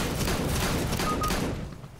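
Auto shotgun firing in a CS:GO match, a rapid burst of loud, booming shots close together, then fading out.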